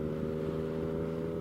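A 2020 Yamaha Tracer 900 motorcycle engine pulling in third gear below 2,000 RPM on a gravel road, a low steady droning hum with faint wind noise.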